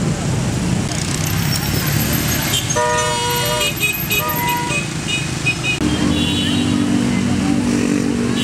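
A motorcycle passes amid street traffic near the Bogor palace grounds, its engine droning steadily with horn toots and tonal beeps mixed into the busy roadside noise.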